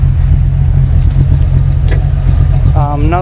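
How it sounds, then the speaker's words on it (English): A Mustang engine idles steadily with a deep, low rumble throughout, close to the microphone, with faint clinks and a brief higher whine near the end. "Car sounds awesome."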